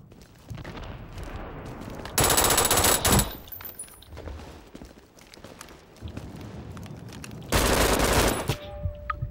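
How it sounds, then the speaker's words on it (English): Bursts of automatic gunfire from the multiplayer shooter game Brink, two loud sustained volleys separated by quieter combat noise, with scattered shots and effects in between. "Oh, he shotgunned me. That was not fair."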